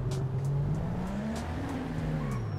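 A Nissan Skyline R34 with a 1000 HP turbo tune in GTA 5 drives by with its engine note rising and falling, steady and close, with faint tire noise and no talk.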